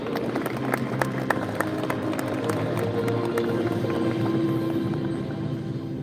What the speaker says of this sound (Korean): 환영의 박수로 맞아주시기 바랍니다.